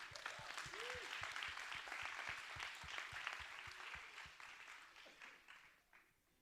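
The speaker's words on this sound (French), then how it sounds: "On applaudit." A group clapping, with some distinct individual claps, gradually fading out toward the end.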